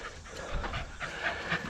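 A dog on a morning walk pants rapidly and steadily, quick rhythmic breaths close by and fairly quiet over faint outdoor background.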